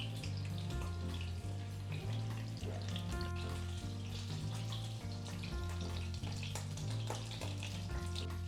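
Rabbit pieces frying in heated oil in a pan, a steady loud sizzle and crackle running unbroken throughout, with a low hum beneath and no talking.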